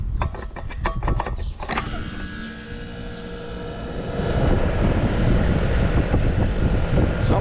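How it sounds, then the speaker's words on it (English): An air conditioner compressor hums steadily with a broad, smooth mechanical drone that swells slightly louder partway through, preceded by a few brief clicks. "Sounded like a compressor to me. Nice and smooth."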